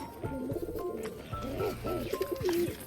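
Low, throaty cooing from a Jamjora pigeon sitting on its eggs, a Rajshahi pigeon. Several soft, rolling coos come in close succession, near and fairly loud over a light background hum.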